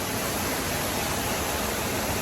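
Kongo Falls sends a steady broadband rush of falling water, constant and fairly close, with no other sounds over it.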